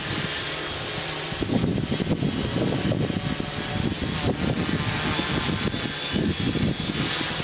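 The Voyager 3 aircraft engine runs at full throttle, a loud, sustained, rough mechanical roar with pulsing, uneven texture throughout, close by and with no talking.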